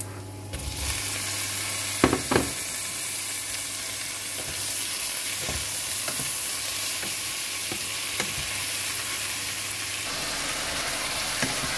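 Beef lands in a hot pot already fragrant with bay leaves, cinnamon and cloves, and a steady, bright sizzle follows, with a few clinks of a utensil, close and alone.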